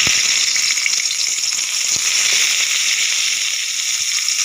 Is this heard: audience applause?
no